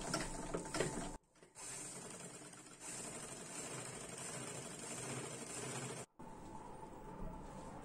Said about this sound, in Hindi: अब हम इसमें सिलाई लगाएंगे